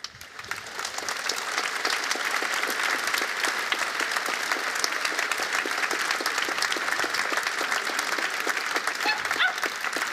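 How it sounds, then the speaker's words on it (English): A large audience at a public address on Europe claps in a thick, sustained roar that rises quickly and holds at an even level for about ten seconds, with no talking over it. "And since people are applauding to this"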